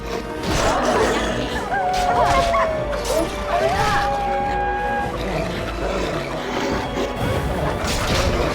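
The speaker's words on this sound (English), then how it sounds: "No, it's not even Darkspawn, it's just dogs." Dogs in the video game Dragon Age barking, yipping and whimpering as they attack, mixed with crashing combat thuds and whacks, loud and continuous, with a voice talking over parts of it.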